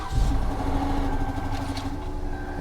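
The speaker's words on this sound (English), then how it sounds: "Engine taps a little bit." A rough-running car at a Copart salvage yard idles steadily after likely sitting unstarted for a while, with a faint light tapping from the engine under a constant low rumble.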